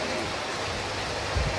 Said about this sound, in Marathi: पाऊस खूप असल्यामुळे बघा तिथे खूप पाऊस आहे